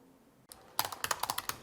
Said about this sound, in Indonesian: Mengetik, menggesek,